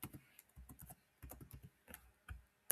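Rapid clicking keystrokes on a computer keyboard, fast uneven rhythm with brief pauses, close and fairly quiet.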